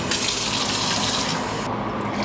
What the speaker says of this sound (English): I do fill up my entire Swell bottle